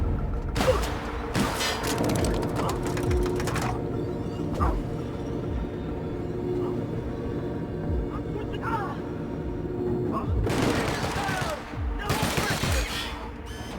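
Gunfight in The Outer Worlds: Spacer's Choice Edition, with bursts of rapid automatic fire and sharp single shots in clusters, loud and close, with pauses between volleys and voices calling out over the combat.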